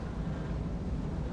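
A train engine in the game Satisfactory gives off a loud, steady low rumble and roar, dense and unbroken across the short moment.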